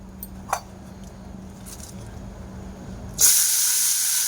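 Shredded cabbage hits hot oil in a pan and erupts into a loud, steady sizzle partway through, following a quiet stretch with a few faint clinks.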